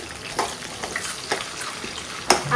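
Curry leaves and onion frying in hot oil, a soft continuous sizzle with faint crackles and a sharper pop near the end, close by, with no voices.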